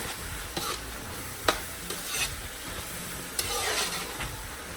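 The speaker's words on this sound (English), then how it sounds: "Stir again." Nigerian fried rice ingredients stirred in a pan give a steady sizzle, with scraping strokes of the spoon and a few sharp clinks against the pan, no voices.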